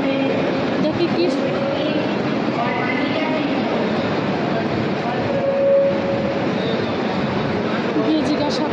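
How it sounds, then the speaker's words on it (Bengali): Trains at the busy Howrah railway station: a constant loud rumble of rolling rail cars fills the space, with voices talking throughout and a brief high tone near the end. "সব থেকে বড় পৃথিবীর ব্যস্ততম স্টেশন হাওড়া স্টেশন"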